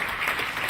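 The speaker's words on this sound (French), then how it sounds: "Veuillez applaudir Agrippine" Brief burst of audience applause for game-show contestants, a steady dense wash of clapping throughout with no voices over it.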